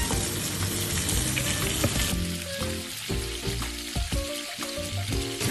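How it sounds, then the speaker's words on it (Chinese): Chicken wings shallow-frying in plenty of oil for a salted egg yolk dish, with a dense crackling sizzle that continues after background music enters. "我哋落多啲油落去，又似煎又似炸咁樣燒咗佢"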